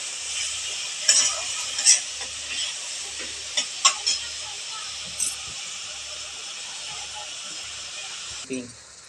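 Tomato and beetroot paste going into a hot pan for pav bhaji, a steady sizzle with a few stirring clanks and scrapes, low and continuous under faint background hum.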